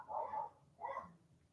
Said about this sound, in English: there's dogs barking all around in that side